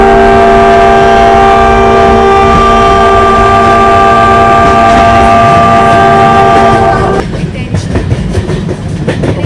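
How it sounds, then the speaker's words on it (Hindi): A Humsafar Express superfast train pulls away in a train simulator game, loud sustained horn and engine drone giving way to rumbling, clattering rail noise that continues steadily. "ट्रेन को निकालता हूँ अभी आगे सुपर फास्ट एक्सप्रेस।"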